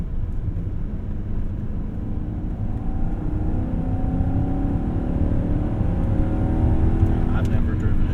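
A 1998 BMW 740iL accelerating in second gear, its engine note climbing steadily in pitch as a smooth, rising drone from inside the car, with road rumble beneath.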